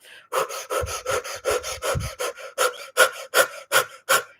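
Rapid fire-breathing exercise from a dynamic meditation: about fifteen sharp, forceful exhalations puff out in a quick, even rhythm like a small steam train, close and loud, with no talking.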